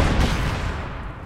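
Artillery fire in a World War II strategy video game, with Soviet SU-76 self-propelled guns and heavy mortars in action: a dense, continuous roar of booming blasts and battle noise, loud and unbroken.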